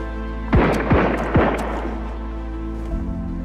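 A gun firing in the video game Sunken Land: three booming shots in quick succession, close and loud, each followed by a decaying rumble over a steady low hum.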